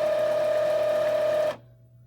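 An Epson EcoTank 2800 printer initializing its ink gives a steady mechanical whir with a sustained tonal hum for about a second and a half, then cuts off abruptly to a faint residual hum.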